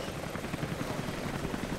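A helicopter's rotor chops in a faint, steady thrum in the distance in the video game Rise of the Tomb Raider, low and continuous with no other sounds standing out.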